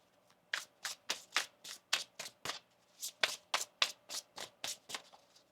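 Tarot cards being shuffled in a quick series of crisp riffling bursts, close and fairly quiet, with no voices.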